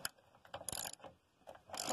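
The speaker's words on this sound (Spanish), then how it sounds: "así vamos a quitar el tornillo" A wrench loosening a valve adjuster screw on a BDS 200cc motorcycle: a few close, quiet metallic ratcheting clicks and scrapes in short bursts.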